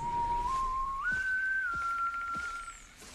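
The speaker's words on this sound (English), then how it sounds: "That can be our secret friendship whistle." A person whistles a simple tune, alone and close by: a steady low tone that steps up to a higher held note, wavers, then slides gently back down and trails off.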